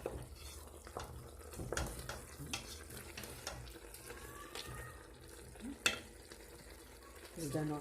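Rabbit sauce with mushrooms sizzles gently in a pan while a utensil stirs and scrapes against it, faint frying with scattered clinks and knocks and no voices.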